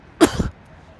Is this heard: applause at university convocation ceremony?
no